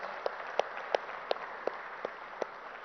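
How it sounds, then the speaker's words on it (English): At the FTCCI Excellence Awards 2022 in Hyderabad's HICC hall, an audience applauds the chief guest: about seven evenly spaced, distinct claps stand out over a soft, diffuse background of clapping in a large room. "Can we have a bigger round of applause for the chief guest?"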